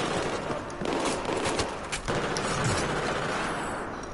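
G36 assault rifle gunfire in a shooter video game, a sustained loud burst of rapid shots with dense crackling reports across the whole stretch and no talking.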